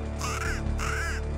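An imitated crow distress call, used to lure predators while hunting golden jackal, gives two harsh, loud caws in quick succession, close up.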